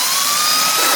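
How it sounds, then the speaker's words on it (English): Electric driver spinning out a starter motor bolt on a Ford Duratec HE engine, a loud, close, steady whine with a rising tone through a brief burst. "And then I use my electric driver"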